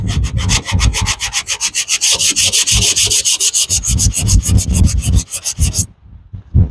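Rough 80-grit sandpaper scraped back and forth over a rusted metal panel during rust repair, a steady run of fast, loud rasping strokes close by that stops abruptly near the end.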